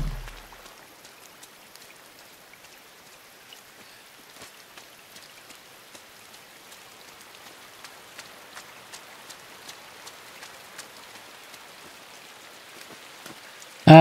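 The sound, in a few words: rain in the video game Inside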